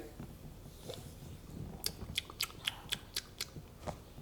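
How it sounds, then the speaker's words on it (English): Wet mouth clicks and tongue smacks from someone tasting bourbon, a quick series of sharp close clicks following a softer murmur, with no talk over them. "you hear that chewing kind of, like you're smacking your tongue"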